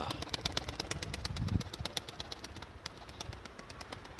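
Turkish high-flying pigeons with a burst of wing flapping midway, amid scattered bird calls and a steady ticking rattle in the background.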